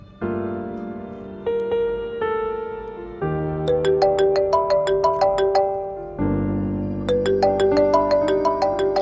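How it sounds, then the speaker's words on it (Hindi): A melodic phone ringtone plays loudly, repeating a short chiming tune with bright plucked notes, alone with no voices. "अच्छा, फोन तो उठा लें, क्या पता कोई इमरजेंसी हो।"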